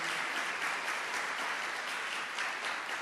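A congregation applauding at a church gathering, a dense, even roar of many hands clapping that holds steady from start to finish with no talking over it.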